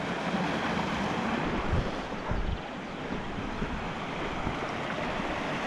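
A small mountain river in the Gorgany rushes steadily in a broad, hissing wash, tumbling over stones, loud and continuous with no voices.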